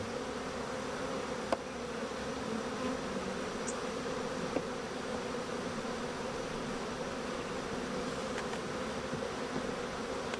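Honey bees humming steadily around an open queenless hive with a laying worker, a dense close drone with the occasional louder bee passing near.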